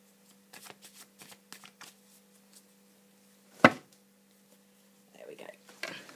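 Soft, quick riffling taps of tarot cards being shuffled close by, a sharp knock partway through, then faint whispery movement and quiet voices.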